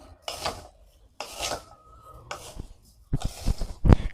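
Sticky rice being dry-roasted in a pan over low heat until golden, with four bursts of dry, rasping scraping and stirring, the last louder with sharp clinks of a utensil against the pan.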